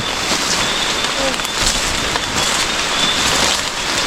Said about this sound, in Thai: ภาคใต้เป็นไงนะบรรยากาศฝนตก